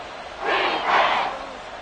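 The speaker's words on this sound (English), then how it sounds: "this crowd doing their best to make a lot of racket" Stadium crowd noise in the Madden 24 football game on PS5, Lions vs. Texans, swelling into two loud cheering surges before easing back to a low murmur.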